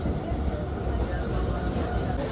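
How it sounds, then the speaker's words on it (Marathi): Steady rumble and rattle from inside a moving train, a constant close noise with no clear breaks throughout. "डबी पहिल्यांदा ट्रेन मध्ये बसला"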